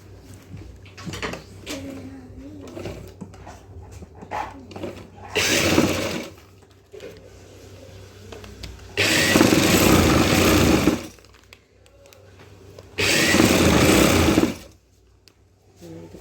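Sewing machine joining fabric for a trouser frill runs in three loud bursts of steady whirring, each a few seconds long, separated by quieter stretches with faint background voices.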